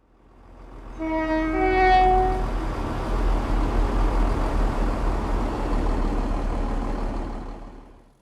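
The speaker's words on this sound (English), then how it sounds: "it allows you to quickly hop in the game and drive a train, or a locomotive" A train running in the Train Sim World video game opens with a loud multi-tone horn blast, then a steady rumbling roll of wheels on track that swells and fades away.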